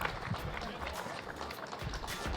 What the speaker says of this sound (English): Another round of applause for our awesome judges.